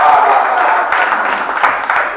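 An audience at a Hindi poetry recital claps in a broad, steady wash of applause, loud and near, easing slightly over a couple of seconds.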